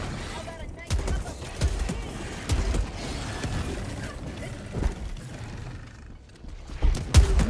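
Shotgun blasts ring out in Helldivers 2, several sharp separate shots with mechanical clacks of reloading and pumping between them, under a player's voice.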